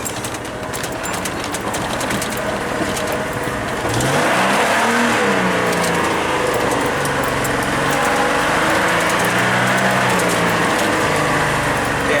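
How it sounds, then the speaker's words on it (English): Ford F250 pickup with a straight-pipe exhaust rumbles through the woods, its engine droning loud and close, then revving and shifting pitch as it climbs and eases off. "this is a little bit of fun going through the woods like this"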